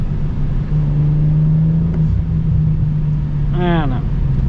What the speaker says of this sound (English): Let's see what this accelerates like.